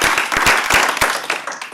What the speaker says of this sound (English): Can we give these outstanding athletes a big round of applause,